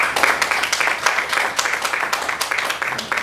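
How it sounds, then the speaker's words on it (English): An audience claps steadily throughout at an investment conference in Ghana, a dense, even patter of many hands, moderately loud and close. "So let's give him a round of applause."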